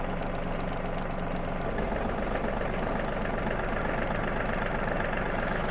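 An Aerovator coreless aeration tractor attachment's engine idles close by on its first start, with a steady, low, chugging rumble that runs unbroken throughout, with no voices.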